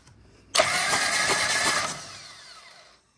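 A Harley-Davidson motorcycle engine is cranked and catches, starting abruptly with a loud mechanical roar that holds for over a second before dropping and cutting off.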